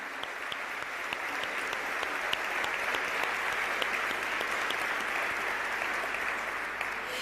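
A church congregation claps loudly and steadily at a worship service, dense sustained applause filling the space from start to finish with no talk over it.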